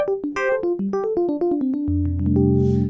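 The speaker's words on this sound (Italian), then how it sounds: "È il suono del piano elettrico, il piano Electric Piano 1 che c'era sulla prima ROM." The Electric Piano 1 preset from the first ROM, played on Arturia's DX7 V synth, sounds a quick run of bright, bell-like electric piano notes. A lower sustained chord enters near the end, all loud and close with no speech.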